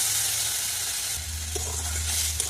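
Water goes into a pan of potatoes frying in oil, and a dense, close hissing sizzle shifts tone midway and keeps steaming steadily, with no voices.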